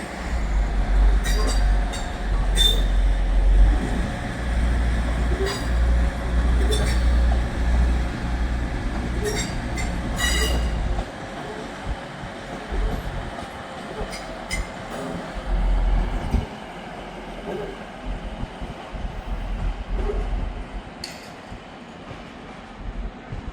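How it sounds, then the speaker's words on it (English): A Class 185 diesel train pulls out of Manchester Piccadilly, its low engine rumble and rolling wheels steady at first, then thinning out with scattered clicks and squeals as it moves off. "The Class 185 on its way back out again to Staley Bridge"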